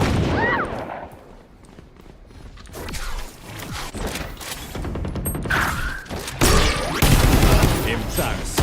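Gunfire in a video game battle, bursts of shots and mechanical clatter rising and falling across the clip, loud and close with busy layered effects.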